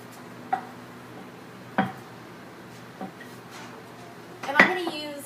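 Clear clinks and taps from cutting empanada dough circles with the rim of a metal mason jar lid on a kitchen counter, a few separate knocks spread out, the last one louder with a ringing metallic scrape.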